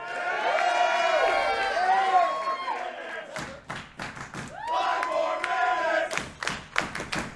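A wrestling crowd at an event chants in unison after a 20-minute draw, a rhythmic, repeated chant, then sharp stomps and claps break in between bursts of chanting.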